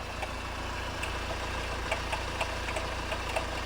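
A Honda CR-V 2.2 i-CDTi diesel engine running with a fault, a steady low idle broken by faint, evenly spaced ticking or knocking that repeats through the whole stretch.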